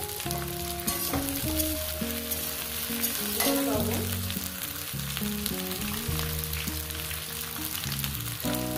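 Potatoes and okra with salt fry in a pan, giving a continuous close sizzle with occasional stirring scrapes, while faint music plays underneath.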